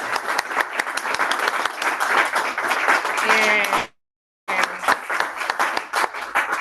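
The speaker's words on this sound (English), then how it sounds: "Let's clap." An audience at a Toastmasters club meeting claps steadily, with a brief cutout of silence partway through, while a voice speaks briefly over the applause.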